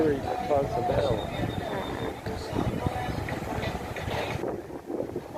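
Steady wind rushes at a beach in Playa del Carmen, Mexico, a continuous low buffeting roar against the microphone that lasts throughout, with someone talking over it.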